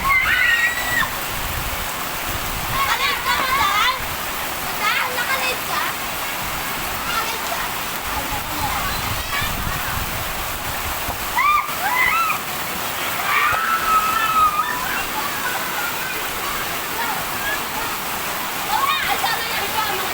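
Heavy rain pours down steadily in a dense, continuous hiss outdoors where people play in the downpour, with voices faintly audible underneath throughout.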